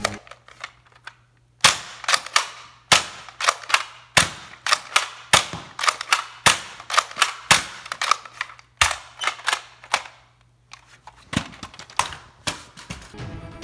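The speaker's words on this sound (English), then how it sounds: "I loaded the gun up and prepared to fire." Toy Nerf guns firing in a staged play battle against a pretend monster: a long run of sharp, close pops and clicks in quick irregular bursts, about twenty shots, with brief gaps between volleys.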